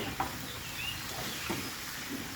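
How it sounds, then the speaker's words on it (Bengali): Spice paste frying and being stirred in a pan for Bengali katla fish kalia, a steady close sizzle with faint scraping and no voices. "আমি মশলাটা ভালো করে কষিয়ে নেব"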